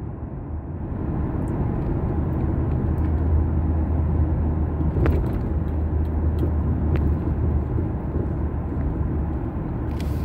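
A 7.3L Godzilla V8 pickup truck cruising on the road, giving a steady, continuous engine and road rumble with tire noise, heard from inside the cab with no one talking.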